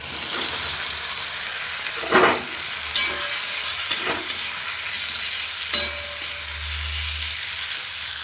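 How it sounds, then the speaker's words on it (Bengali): Potatoes and tomato fry in a pan while a spoon stirs them, giving a steady sizzle with several distinct scraping strokes. No one talks over the cooking. "আলুটা খুব ভালোভাবে কষাবো"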